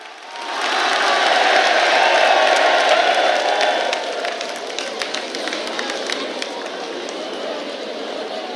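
A large crowd at a religious gathering applauds loudly and steadily throughout, with scattered whoops and shouts mixed into the sustained clapping.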